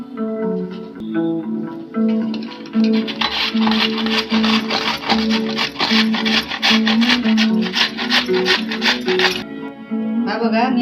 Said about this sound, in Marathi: मी आता हे किसणीवर किसून घेणार आहे